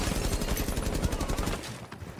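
Rapid automatic gunfire in a console shooter game blasts through a window in a loud, dense, sustained burst lasting nearly two seconds before cutting off, with no talking over it.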